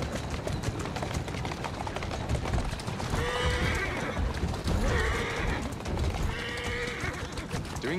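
Horse in the game Assassin's Creed Syndicate gives three whinnies spaced a couple of seconds apart over a continuous patter of clip-clopping hooves, close and moderately loud.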